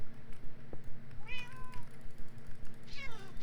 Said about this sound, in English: where is this cat? Oh my goodness. There's so many of them